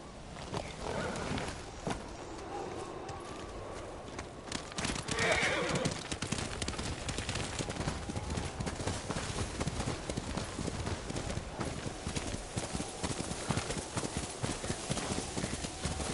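Rhythmic hoofbeats of a galloping horse in Ghost of Tsushima over a steady wind-like background, with a brief whinny early on, moderately loud and continuous.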